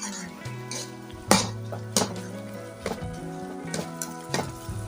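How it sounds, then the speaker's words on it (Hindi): A spoon scrapes and clinks against a pan while grated carrots are mashed and roasted for gajar ka halwa, a series of uneven metallic knocks over a low steady frying hiss. "आपने इस तरह मैश करते रहना है और साथ साथ भूनते रहना है।"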